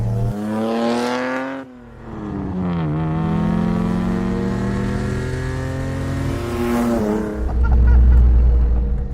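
A rare classic Toyota sports car accelerates hard, its engine and exhaust climbing through the gears in rising sweeps with short dips between shifts. The sound is loud, close and continuous, with a deep rumble building toward the end.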